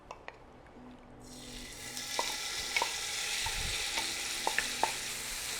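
Salmon laid into hot avocado oil in a nonstick pan, sizzle swelling from near quiet into a steady close hiss, punctuated by several sharp spits and pops, no speech.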